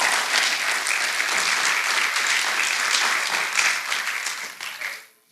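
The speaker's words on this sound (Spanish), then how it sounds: "un fuerte aplauso para Elliot" An audience gives a warm round of applause at a church event, dense continuous clapping that stays strong before fading out at the end.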